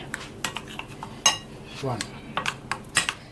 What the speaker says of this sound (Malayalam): നമുക്കിതൊന്ന് മിക്സ് ചെയ്തിട്ട് നമുക്കിതിലേക്ക് ഉപ്പോ മധുരം എന്താ വേണ്ടതെങ്കിൽ അത് നോക്കിയിട്ട് വീണ്ടും ചേർക്കാം